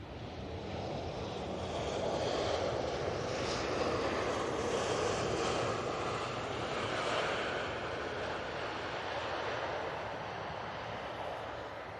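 An EasyJet airliner rolls for takeoff on runway 05 left at Manchester Airport, its engines producing a steady, broad roar. The roar swells slightly mid-roll and holds loud throughout, with some wind noise on the microphone.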